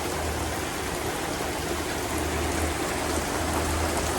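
Heavy rain pours steadily onto a cabin boat, a dense, loud, unbroken hiss of drops drumming on the surfaces with no voices.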